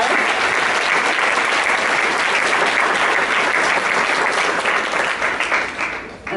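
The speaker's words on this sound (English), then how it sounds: "Give her a big round of applause." Dense, sustained audience applause at an elementary school back-to-school night, loud and even throughout before fading out at the very end.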